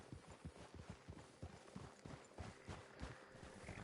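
Horse hooves clip-clop in a steady, close rhythm as riders dismount in Red Dead Redemption 2, the repeated thuds loud and unbroken over a soft background hum, with no talking.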